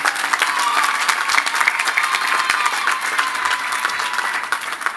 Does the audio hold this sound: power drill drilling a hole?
no